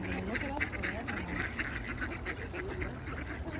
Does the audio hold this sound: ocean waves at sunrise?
no